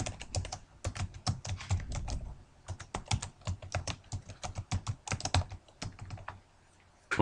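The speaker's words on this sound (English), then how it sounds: "And start typing notes." Rapid clattering of computer keyboard keys as notes are typed in OneNote, close and fairly quiet, in irregular bursts with short pauses and a final few taps.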